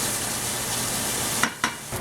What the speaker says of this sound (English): we will cook the half a pound of bacon